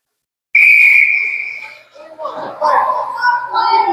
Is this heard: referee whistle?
yes